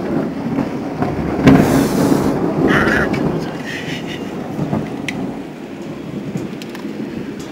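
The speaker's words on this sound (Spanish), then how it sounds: "ahora solamente está lloviendo. Hay rayos, truenos y relámpagos, nada más." A thunderstorm in Puno, with heavy rain hissing steadily and a loud, close thunder rumble that swells and fades, while a voice speaks faintly in the background.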